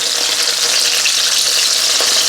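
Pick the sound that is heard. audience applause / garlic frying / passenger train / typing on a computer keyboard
garlic frying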